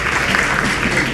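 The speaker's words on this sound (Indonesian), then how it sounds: "Oke kita berikan tepuk tangan untuk narasumber kita." An audience at a public discussion forum applauds the speakers with a brief, steady patter of many hands. The clapping sounds moderately close and fills the whole short moment.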